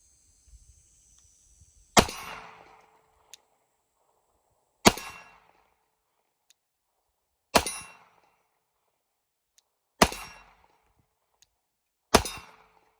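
Five Glock 19X pistol shots ringing off a steel target outdoors, each a sharp crack with a metallic clang and short decay, spaced about two to three seconds apart against near silence.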